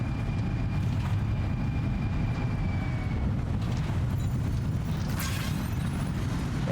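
A newly built monorail ride in Death Stranding 2, carrying a steady loud low rumble of rolling rail travel with a faint whine and a brief sharper swish near the end.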